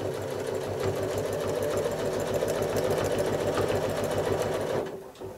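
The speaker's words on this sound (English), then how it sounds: "make sure your machine is running at a speed that corresponds with that" A sewing machine stitching a quilt block runs at a steady fast rhythmic hum of needle strokes for about five seconds, close and continuous, then stops abruptly.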